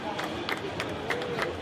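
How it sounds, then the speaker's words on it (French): Crowd clapping at an award announcement for a rum producer at an agricultural show in Paris, scattered applause under a busy hall murmur with a voice speaking. "Bravo, vous pouvez les applaudir"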